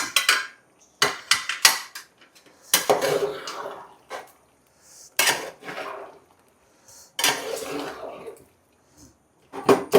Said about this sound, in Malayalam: കപ്പ ഇടാൻ പോകണം നന്നായിട്ടൊന്ന് ഇളക്കി കൊടുക്കാം